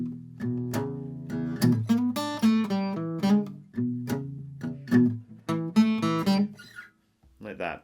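Acoustic guitar plays a blues lick over a shuffle rhythm, with plucked notes and strummed chords in a loping, swung pulse, close and moderately loud, with no talk, ending in a short pause and a final strum.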